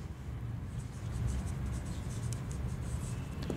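A pen scratches steadily across paper while a maths solution is written out, the sound soft and close with faint continuous strokes and no talk.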